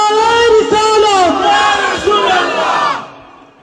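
A large crowd at a Bengali religious gathering roars a slogan in unison, loud and sustained, rising and falling for about three seconds before cutting off.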